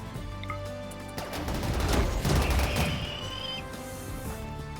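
Rockets fired in RimWorld during a rainy battle: a dense, loud burst of crackling blasts and rumbling booms swells through the middle, over a steady rain-like hiss, then eases off.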